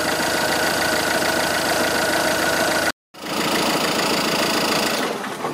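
A 2008 Peugeot 308 1.6 engine idles during a home oil service, a loud, close, steady rumble with a faint ticking rhythm, briefly cut by a sharp dropout before the idle resumes.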